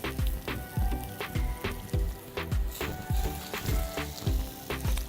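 Burger patties fry in a pan with a steady crackling sizzle, punctuated by regular popping spatters close up, with no talking.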